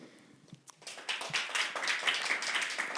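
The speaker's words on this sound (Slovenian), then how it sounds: "En velik aplavz pa še Mateji, Pavcu in Veroniki." A slam poetry festival audience in Ljubljana breaks into applause, starting with a few scattered claps and swelling into steady, dense clapping from a crowd.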